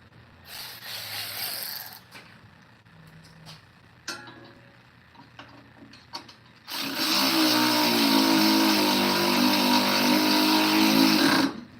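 Power tool tightening bolts on the gear case of an Ariens Deluxe 30-inch snowblower: scattered clicks and handling noises at first, then a loud, close, continuous mechanical whirring that lasts about five seconds.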